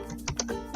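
Keystrokes on a computer keyboard entering G-code into a Swansoft Sinumerik 808DM CNC milling simulator, several quick close clicks in an uneven rhythm, no voices.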